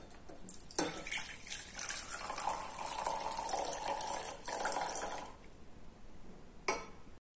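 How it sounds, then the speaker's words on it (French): Alcohol for making solid stove fuel is poured in turn into two containers, giving a close, continuous liquid splashing and trickling stream that stops, followed by a brief clink. "partagez équitablement l'alcool dans vos deux récipients"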